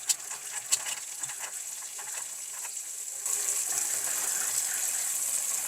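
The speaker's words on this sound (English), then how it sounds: "Okay, we're getting a good solid stream of water." Water runs from a house faucet after a water heater refill, first sputtering and patchy, then settling into a steady, full gushing stream.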